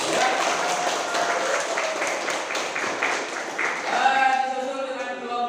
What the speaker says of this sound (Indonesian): mari kita beri aplaus untuk kelompok 1 ya